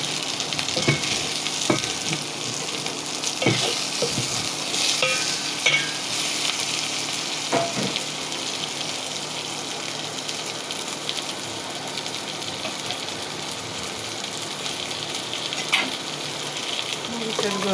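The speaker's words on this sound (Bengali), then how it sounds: "ইলিশ মাছ কখনো আলাদা ভাজতে হয় না, এভাবে পেঁয়াজের সাথে হালকা করে ভেজে নিলে হয়" Hilsa fish and onions frying in a pan, with a steady close sizzle throughout and occasional clinks and scrapes of stirring.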